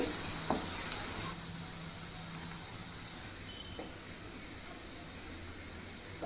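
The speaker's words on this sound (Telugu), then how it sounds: "మెల్లగా తిప్పుకుంటూ ఫ్రై చేయండి, మళ్ళీ అవి విడిపోతాయి" Coconut kofta balls fry in hot oil while being gently turned, giving a steady close sizzle throughout with a few faint clicks of the utensil against the pan.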